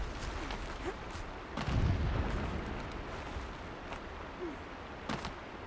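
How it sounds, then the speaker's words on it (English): Distant explosions rumble in the open world of the video game Horizon Zero Dawn, a low boom swelling near the two-second mark over a steady ambient bed, with fainter thuds scattered around it. "Explosions in the distance."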